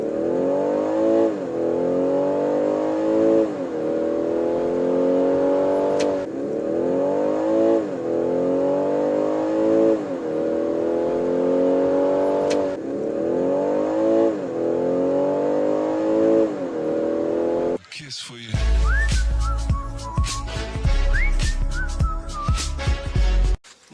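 A BMW X3 xDrive30e plug-in hybrid SUV revs hard and climbs repeatedly through gears with a whining drone, then cuts to a shorter burst of louder mechanical noise near the end.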